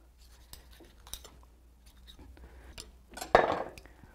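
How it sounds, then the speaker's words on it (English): A knife works into a pig's leg joint and tendon with faint scraping, ticking and clicking contacts, ending in a sharper, louder cut or snap near the end. "So I'm going to try to stick my knife in there if I can"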